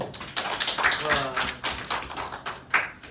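Scattered, uneven clapping from students in a Korean history class, a burst of sharp hand claps mixed with talking voices.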